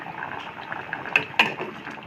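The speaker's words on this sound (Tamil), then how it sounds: "மாம்பழமும் கொலக்கட்டையும் சேர்ந்து வெந்துக்கிட்டு இருக்கு." Ripe mango pulp and rice dumplings (kozhukattai) simmer together in a pot, giving a soft, steady bubbling with two brief, sharper pops near the middle; no one speaks.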